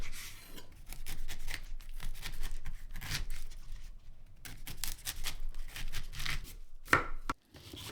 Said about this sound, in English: Cut 1/4 of a pineapple into chunks.